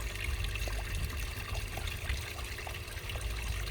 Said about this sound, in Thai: ในส่วนของท้ายๆเนี่ย ก็ยังมี น้ำมันหยดอยู่เยอะนะฮะ ก็ต้องค่อยๆเท